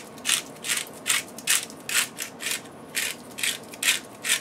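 A handheld grinder cranks Italian seasoning in a kitchen, a steady rhythm of about ten raspy grinding bursts close up and fairly loud, with no talking.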